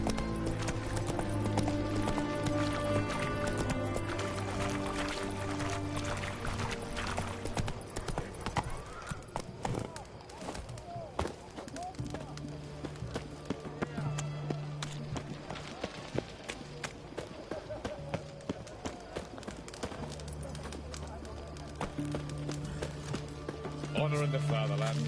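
Geralt's horse Roach gallops in The Witcher 3, hooves beating a fast, steady clip-clop rhythm up close for the whole stretch, with voices talking over it and music in the background.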